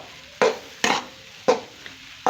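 A spoon works thick semolina halwa around a pan, giving four close, abrupt scraping strokes spaced unevenly, with a faint sizzle in the quiet gaps between them.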